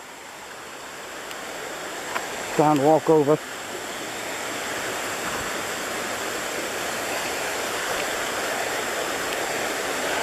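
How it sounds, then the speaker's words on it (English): Creek water flows steadily over a deep pool at a river bend outside Roswell, Georgia, a constant broadband rush through the whole stretch, with a brief voice speaking over it near the start. "And now here is the river, or rather the creek"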